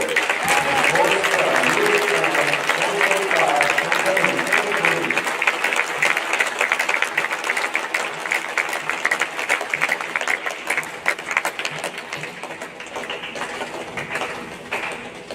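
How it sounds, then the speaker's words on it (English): A crowd applauds the homecoming court at a school coronation, loud, dense clapping that holds steady and then slowly thins toward the end, with some voices mixed in. "let's have one more round of applause for our entire homecoming court"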